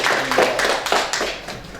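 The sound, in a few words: classroom applause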